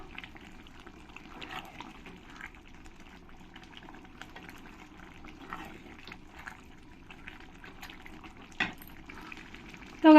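Jackfruit curry (echor kalia) cooking in a pan as garam masala powder is stirred in: a low, continuous bubbling simmer with soft stirring scrapes, one sharper clink near the end.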